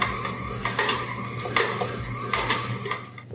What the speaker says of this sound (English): During the process, do not hesitate to scrape a little bit the side of the mixing bowl